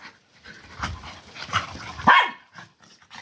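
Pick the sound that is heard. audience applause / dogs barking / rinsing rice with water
dogs barking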